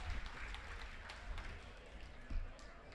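Quiet applause from a small audience at a community meeting, scattered hand claps heard faintly and somewhat distant, with low rumbling room noise underneath.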